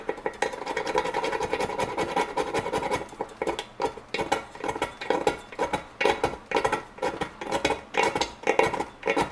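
An Uberleben Zunden ferro rod fire starter scraped with its scraper edge in repeated strokes. The rasping scratches grow into a fast, rhythmic run of gritty, close strokes.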